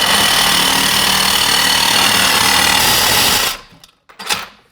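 A loud power tool buzzes steadily for over three seconds while tightening a hose clamp on a 27,000-mile original C4 Corvette, then stops abruptly, followed by a few short clanks and handling noises.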